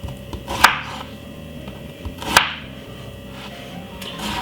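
A knife cuts cucumber on a cutting board, with sharp, widely spaced chops landing about every second or two, close and crisp over a quiet low background hum with no talking.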